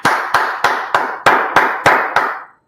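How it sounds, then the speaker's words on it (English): During an online history class, someone claps eight times in a slow, even rhythm. The claps are close and sharp, each followed by a short ringing decay, and then there is silence. "Let's clap it up."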